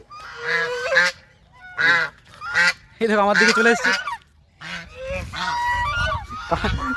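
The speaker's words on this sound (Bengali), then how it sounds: "অনেকগুলো আছে এখানে রাজহাঁস" Several geese honk loudly and close by at a pond, in repeated harsh bursts, one approaching near, while someone talks between and over the calls.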